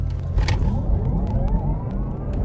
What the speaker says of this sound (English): Right foot acceleration. Launch control, let's go.